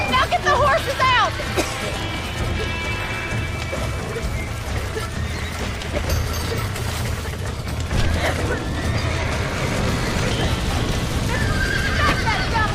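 A horse in Red Dead Redemption whinnies sharply near the start, then hooves clip-clop steadily beneath a continuous bed of in-game noise and background chatter.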